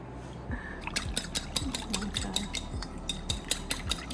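Wet ingredients for a flaky cherry pie dough are whisked in a bowl, with fast, regular metal strokes clicking against the sides about twice a second, close and clear, and no talking.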